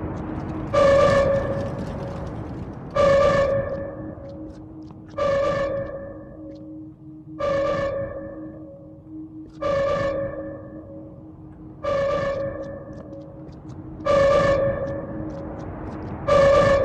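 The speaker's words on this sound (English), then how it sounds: "This is one of those sirens you have to turn off during a running Horde event." Siren from the video game Survived, a Left 4 Dead–style Horde event alarm: loud, evenly spaced wailing tones repeating about every two seconds over a low steady hum, with no talk.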